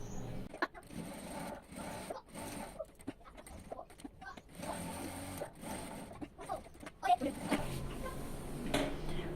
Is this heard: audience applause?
no